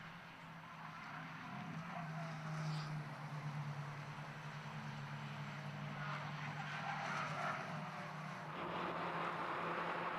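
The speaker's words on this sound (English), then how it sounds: "Sound of tortured tyres there at the back of shot somewhere around Coppice" Racing cars at a Donington Park club championship meeting, with tyres squealing faintly in the distance around Coppice corner beneath a steady wash of engine noise.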